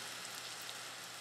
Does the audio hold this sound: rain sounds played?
yes